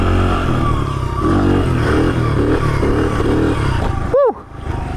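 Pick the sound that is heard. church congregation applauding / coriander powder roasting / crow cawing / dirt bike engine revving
dirt bike engine revving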